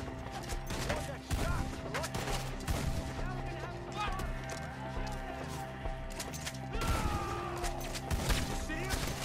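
Scattered gunfire during an ambush in Red Dead Redemption 2, rapid overlapping shots amid game music and clatter, with voices talking over the shooting.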